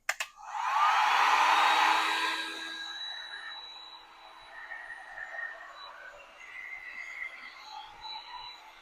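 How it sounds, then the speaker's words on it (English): A heat gun switches on with a loud rushing blast of air that settles into a steady whirring hum with a high whine, close by, melting candle wax strands. "Excuse the noise for a second, but the heat gun"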